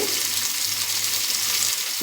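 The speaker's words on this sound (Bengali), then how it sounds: "এটা ভালো লাল করে ভেজে নিতে হবে" Pointed gourd frying in oil until browned, a dense, even hiss of sizzling oil that holds steady and close for the whole stretch, with no talking.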